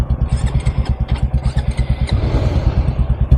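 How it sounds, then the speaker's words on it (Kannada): A motorcycle engine chugs unevenly in rapid low pulses, sputtering and labouring as it stalls and fails to start, loud and close with no voices. "ಈಗ ಗಾಡಿ ಬಂದ್ ಆಗತೈತಲ್ಲ, ಸ್ಟಾರ್ಟ್ ಆಗಲೈತೆ. ಗಾಡಿ ಬಂದ್ ಆಗತೈತೆ"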